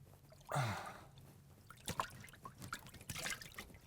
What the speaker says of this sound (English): So I've drained out most of the water.